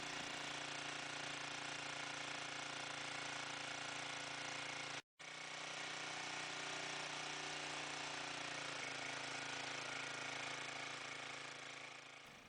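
Steady engine held near full throttle by its governor under a switched load bank, a loud continuous drone with a brief cutout around the middle and a slight pitch drop later on.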